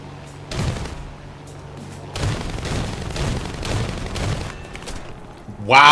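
Cannon and machine-gun fire from War Thunder aircraft, including a 40mm cannon, heard as a steady stream of booming shots over a continuous engine drone, with a louder burst at the end.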